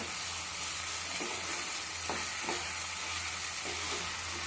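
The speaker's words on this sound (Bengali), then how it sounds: "আমি মটরশুঁটি ছাড়িয়ে রেখেছি দিয়ে দেবো এবার কষিয়ে নেব" Shelled green peas sautéed in a pan of spiced potato curry, giving a soft, steady sizzle broken by a few light scraping stirs, close and quiet, with no speech.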